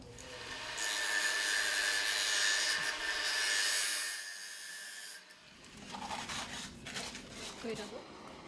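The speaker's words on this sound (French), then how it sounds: "Nous commençons par meuler sur mesure le petit morceau supplémentaire" A power grinder cuts a small piece of drain pipe to size, giving a steady loud high-pitched whine for several seconds before cutting off, followed by rubbing and handling noises as someone speaks.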